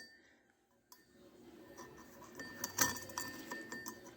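Metal lock plate set onto a 1948 Ford 8N tractor engine during valvetrain and crankshaft work, giving a few light metallic clinks and taps up close, with a sharper chink near the middle among quiet handling noise.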